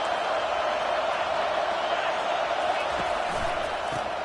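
A roaring stadium crowd at a football game, a steady, loud wall of noise from thousands of fans, with a commentator talking over it.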